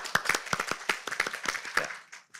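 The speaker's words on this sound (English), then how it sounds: "Let's give him a round of applause." Scattered applause from a modest general-assembly audience, with individual hand claps clearly separate in an uneven rhythm. The clapping thins out and fades toward the end.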